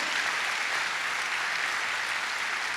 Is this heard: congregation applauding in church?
yes